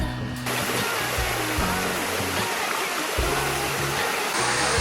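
Steady broadband rush of the mineral-crusted Bua Tong sticky waterfall in a Chiang Mai forest, continuous water noise filling the whole stretch, close and loud, with faint low voices underneath.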